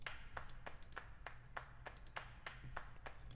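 A dry, unprocessed electronic clap loop from an electronic production, hitting in a steady rhythm about three times per second with a few quieter ghost claps between, sharp and close over a faint low hum.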